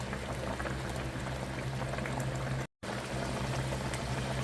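Hilsa fish curry with white eggplant and Japanese chili boils in a pot, a steady, close, continuous bubbling and simmering with no talk, briefly cut to silence near the middle.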